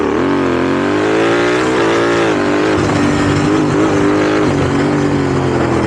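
A car's exhaust roars as the engine revs, a loud, close, continuous droning note that swells and dips in pitch for several seconds without a break.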